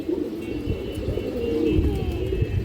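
Pigeons coo softly and steadily, nearby, in a low continuous murmur over faint background hum.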